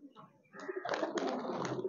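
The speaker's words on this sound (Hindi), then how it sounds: "ये देखें गाइस, तो कितने प्यार से ये खा रहे हैं मक्की, बड़े शौक से खाते हैं हमारे कबूतर भी" Pet pigeons coo softly while pecking at maize kernels at home, a low murmuring coo that thickens into a fuller, continuous cooing chorus.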